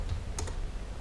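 A few quick, faint keystrokes on a computer keyboard, a short cluster of soft clicks over a low hum, no voices.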